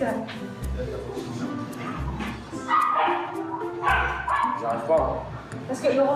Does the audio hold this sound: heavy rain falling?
no